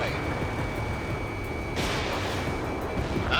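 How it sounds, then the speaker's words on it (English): Missile fired from a fighter jet in Ace Combat 7: Skies Unknown, a loud roaring rush of launch over steady engine and battle noise, swelling sharply partway through. "Missile away."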